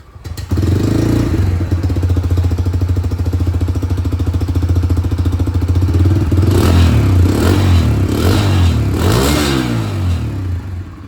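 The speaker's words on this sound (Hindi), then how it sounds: "पेट्रोल से जब चलती है उसकी जो एग्जॉस्ट साउंड है वो मैं आप लोगों को सुना दूँ।" A Bajaj Freedom 125 motorcycle running on petrol idles loudly with a steady, throbbing exhaust rumble, then is revved a few times toward the end.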